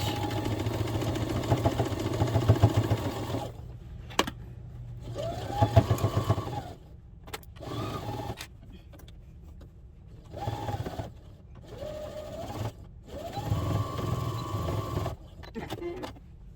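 A sewing machine back-stitches a soft padded figure skate guard in short bursts, whirring runs broken by pauses and clicks, with brief talk between passes.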